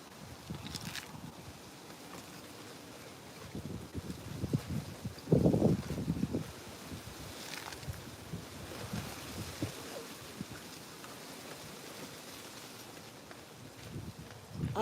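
Gusty wind blowing across a microphone in a backyard garden during plant repotting, a steady low rumble with a louder buffet near the middle.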